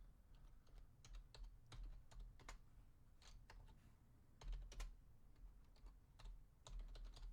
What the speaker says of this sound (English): one-handed typing is a little slow